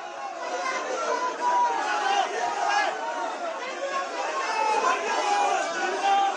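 Crowd gathered around arrested AAP MP Sanjay Singh as he waves, a steady wash of chatter and overlapping voices with no single voice standing out.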